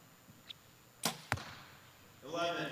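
An arrow released at the Lancaster Archery Classic women's masters finals, a faint tick followed by two sharp snaps of the shot and strike on the target, then a low murmur of voices at the close.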